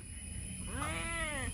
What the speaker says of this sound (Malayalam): ഇവിടെ എൻ്റെ കൂടെ എപ്പോഴും നടക്കുന്നൊരു പൂച്ചയുണ്ട്